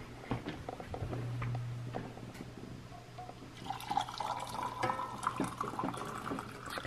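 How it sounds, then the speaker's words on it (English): Hot chocolate poured from a pot into two mugs over a kitchen sink, a steady liquid trickle and splashing that grows busier partway through, close by, with faint dripping. "So let's go ahead and get these poured up into some mugs."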